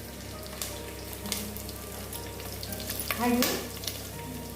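Cashew nuts and almonds roasting in a pan, a steady close sizzle with scraping stirs, and a voice saying a single word near the middle.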